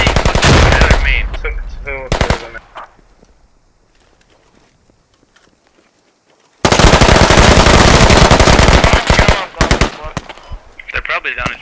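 Loud automatic gunfire in the military shooter Squad rattles in long, dense bursts at the start and again later, with a near-silent gap between them and a voice talking over the shooting.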